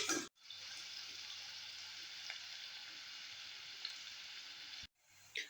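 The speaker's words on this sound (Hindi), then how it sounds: "प्याज को ब्राउन होने तक अच्छे तक पकाएंगे हम" Onions for kadhi pakora fry in a large pot with a steady, even sizzle, fairly close and continuous, with brief dropouts near the start and end.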